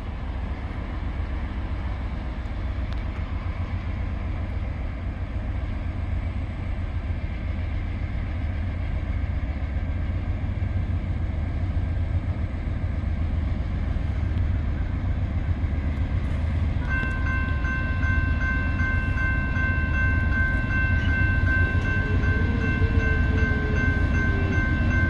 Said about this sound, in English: Got an NS51V coming by Blythewood, South Carolina,